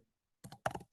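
A few quick keystrokes on a computer keyboard while typing code, a short cluster of crisp clicks heard close and alone.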